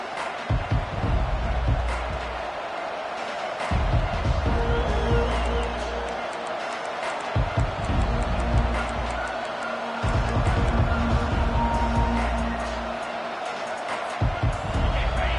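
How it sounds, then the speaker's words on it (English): A large stadium crowd at a college football game featuring the Buckeyes roars loudly in sustained waves, with a commentator talking over the din. "This crowd bringing an ear-splitting welcome to their visitors."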